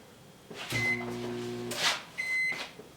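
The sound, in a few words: microwave oven going off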